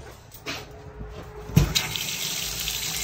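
Water runs steadily from a bathroom faucet into a sink in a 2024 CrossRoads Hampton 388FKL RV, a continuous splashing hiss with a brief clunk partway through.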